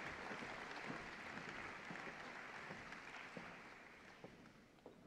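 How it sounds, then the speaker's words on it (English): Applause for an athlete inducted at a 2018 hall of fame ceremony, a steady wash of clapping from a seated crowd that fades slightly toward the end, with a few sharper individual claps standing out. "One more time, a round of applause for our final athlete inductee"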